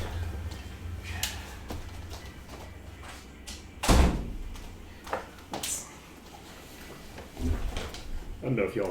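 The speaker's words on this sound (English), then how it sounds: "Ooh, I'm gonna close the door." An indoor door swings shut with a single solid thud partway through, amid scattered clicks and knocks, while a person talks over it.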